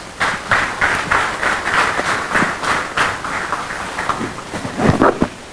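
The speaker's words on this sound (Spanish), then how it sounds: "brindándole un fuerte aplauso" An audience at an institutional conference gives a round of applause for a speaker, a moderate, fairly sparse spread of individual claps heard up close and steady throughout.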